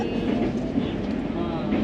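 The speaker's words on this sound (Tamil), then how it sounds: "ட்ரெயின் போகுது" The Grand Trunk Express rumbling along the tracks in heavy rain, a steady low roar with faint rhythmic clatter, close and continuous, with a voice speaking over it.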